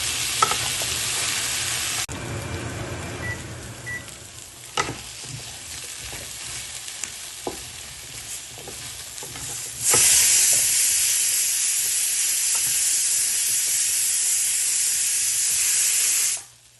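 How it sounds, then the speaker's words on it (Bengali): Ginger and spices sizzle and fry in a pan for a fish curry, a steady hissing crackle with a few stirring scrapes, swelling louder in the later half before cutting off abruptly. "তারপর আদা দেবো মশলাগুলো একদম দিয়ে দেবো"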